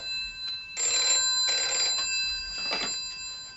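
An indoor telephone bell rings in three distinct bursts with short pauses between them, clear and moderately loud with no talk over it.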